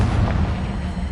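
A Confringo blasting spell in Hogwarts Legacy lets out a short, loud explosive boom, a dense roar that fills the whole brief moment.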